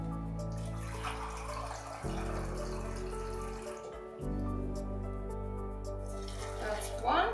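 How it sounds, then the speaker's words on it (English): Water pours into a pot for porridge oats in a steady, gurgling stream, with two brief breaks between pours and a low hum running underneath. "I'm adding my water now"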